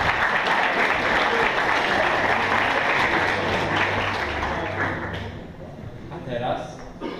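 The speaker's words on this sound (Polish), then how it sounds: "Jeszcze raz wielkie brawa" Sustained applause from a crowd, loud and steady, thinning out toward the end with scattered claps.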